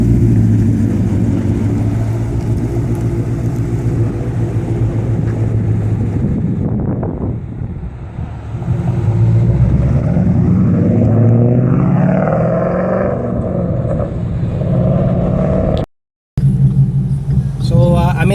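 A 2015 Ford Mustang being driven, a loud continuous engine rumble and road roar from inside the car that swells and eases, with a brief dropout near the end.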